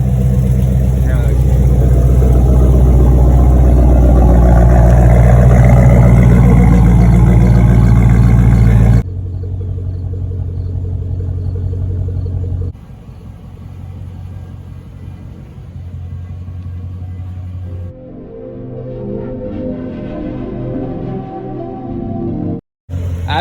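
A 2022 Dodge Charger 392 Scat Pack widebody rumbles with a deep, loud engine tone that shifts and drops in level over time, and voices talk over parts of it.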